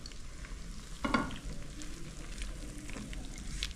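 Pizza sauce cooks in a pan with a soft, constant sizzle and bubbling, broken by one louder clatter early on, all fairly quiet and close.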